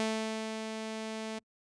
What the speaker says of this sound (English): So a short release sounds like this.